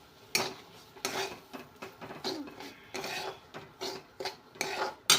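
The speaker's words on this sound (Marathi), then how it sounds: "आणि तुपामध्ये चांगला रवा परतून घ्यायचा." Semolina being roasted in plenty of hot ghee in a pan for sheera, heard as faint, repeated scraping and stirring strokes of a utensil against the pan in an irregular rhythm, with no talk.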